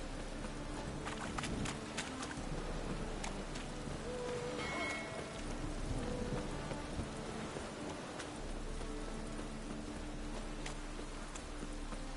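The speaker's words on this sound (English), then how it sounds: "Rain again." Rain in The Witcher 3 keeps up a soft, steady hiss in the Novigrad area, with scattered faint clops and knocks like hooves or footsteps underneath and no one speaking.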